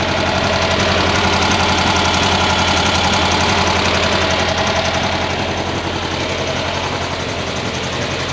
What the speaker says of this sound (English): the left half of the motor is running about 100 degrees cooler than the right